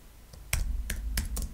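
Bursts of keystrokes on a computer keyboard, four or five quick clusters of clicks over a low background hum, fairly close and moderately loud, with no talking.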